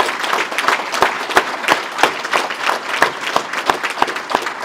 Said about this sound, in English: Please join me in a well-deserved round of applause for Chief Bledsoe.